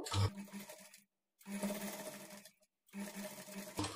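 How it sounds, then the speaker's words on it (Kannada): Sewing machine stitching a lehenga blouse for a child: three quiet bursts of fast, even needle whirring, separated by short silent pauses, with no talking. "ಈ ಕಡೆ 1 ಇಂಚ್ ಕ್ಲಾತ್ ಎಕ್ಸ್ಟ್ರಾ ಬಿಟ್ಟು 1/2 ಇಂಚ್ ಮಾರ್ಜಿನ್ಗೆ ಸ್ಟಿಚ್ ಮಾಡ್ಕೊಳ್ಬೇಕು"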